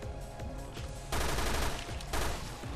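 Gunfire in Resident Evil: Revelations 2, dense bursts of rapid shots that swell into two loud sustained volleys over a busy game soundscape, with no speech.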